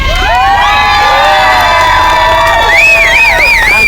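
A crowd at a solidarity demonstration in Kentucky cheers loudly and continuously, with high shouts, whoops and rising, wavering cries layered close together throughout.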